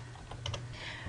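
A web address is typed on a computer keyboard as a quick burst of close, crisp key clicks, with a couple of sharper taps in the middle.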